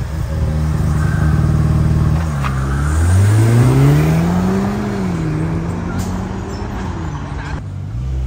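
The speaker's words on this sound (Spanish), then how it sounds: "Ahí vienen ya los dos carros. Esperen que pasen los carros." Two race cars in a racing video game roar past one after another, loud engines rising and falling in pitch as they sweep close by, with steady engine drone throughout and people talking over it.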